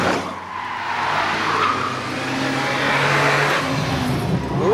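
A BVS10 army truck corners hard at about 30 miles an hour, its engine droning loudly and close as tyres scrub and squeal faintly through the turn.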